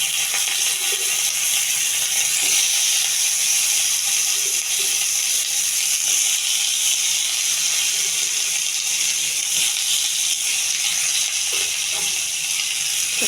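Cumin seeds and curry leaves fry in a little oil in a pan, a steady bright sizzle and hiss that holds level throughout with faint crackles.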